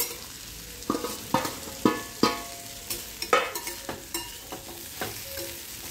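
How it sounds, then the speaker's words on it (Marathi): Stuffed okra and leftover spice masala fry in hot oil in a pan, with a steady sizzle broken by a regular series of sharp scraping stirs, close and fairly loud, with no voices. "थोडा मसाला राहिलाय तो आपण तेलात घालून परतून मसाला चांगला परतला की भेंड्या घालून घ्यायचे।"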